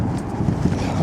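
Wind buffets a microphone outdoors, a low rumbling, fluttering roar that fills a brief moment, close and fairly loud.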